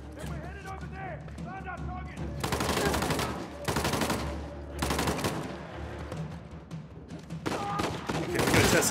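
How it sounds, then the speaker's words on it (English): Automatic shotgun fired in Uncharted: The Lost Legacy, several loud rapid bursts of booming shots with gaps between, over game sounds and someone talking excitedly. "It's like a fully automatic shotgun that just has a great rate of fire, super great power."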